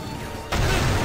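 Glass shattering during a train fight in the video game Final Fantasy XV, a sudden loud crash that sets in halfway through and keeps up as a dense, crunching spill of breaking panes.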